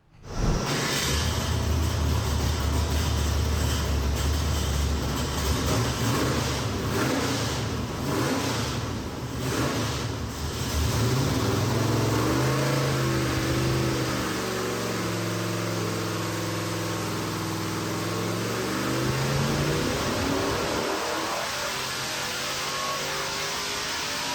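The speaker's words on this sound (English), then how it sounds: "427 cubic inch small block Ford. Supercharged." A supercharged 427 cubic inch small block Ford roars on a dyno, revving hard and climbing through a long loud pull, then dropping back, close and continuous with no talk.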